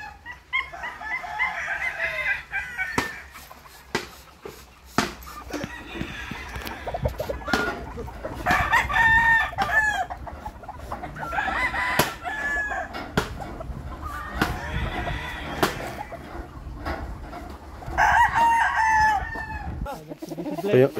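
Gamefowl roosters crow repeatedly on a Pangasinan farm, several drawn-out cock-a-doodle-doo calls arriving every few seconds, near and loud, with clucking and scattered barnyard noise between crows.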